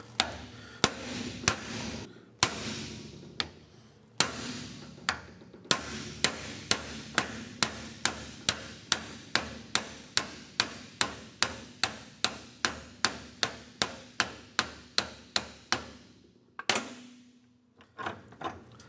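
Repeated hammer blows on a U-joint cap of a 1999 Toyota 4Runner, a long steady series of sharp metallic strikes, close and loud, a few irregular at first then evenly spaced, with no talking.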